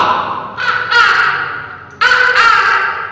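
Two loud, close caws from a pet crow that mimics words, each a harsh drawn-out call with a raspy break, separated by a short pause.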